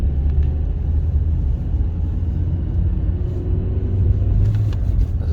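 A 1996 Ford Mondeo with a 1.6 gasoline engine drives along in second gear, giving a steady, loud low rumble of engine and road noise from inside the car with no talking.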